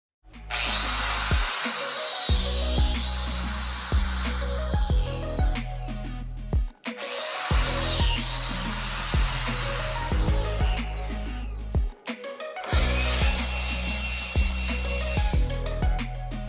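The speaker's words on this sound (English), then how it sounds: "now that we're done with the biscuit joinery and slotting and everything" A biscuit joiner cuts slots in 3/4 inch material in a woodworking studio, its motor whining loudly and steadily in three long runs split by short pauses, with repeated plunging cuts along the way.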